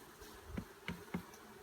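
Honeybees from a package buzzing during installation into a five-frame box, a soft steady insect drone with a few short louder swells.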